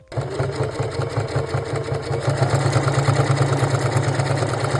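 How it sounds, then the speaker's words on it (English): A sewing machine stitches steadily around the edge of a fabric piece, a close, loud, rapid mechanical whirr with an even repeating rhythm that gains strength after the first couple of seconds. "now I'm just gonna sew all around the edge"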